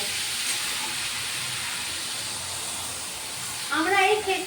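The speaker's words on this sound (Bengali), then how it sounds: "একটু ভাজা হয়ে গেছে, এবার ওপর থেকে জল দিয়ে দেবো যাতে আলুটা নরম হয়" Water poured over potatoes frying in a pan for a Bengali potato and pointed gourd chenchki, giving a steady loud sizzling hiss of steam, with a voice talking briefly near the end.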